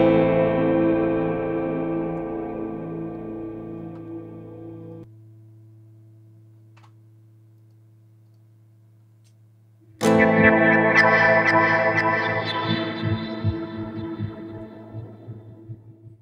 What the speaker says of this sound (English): Or some more distorted guitars.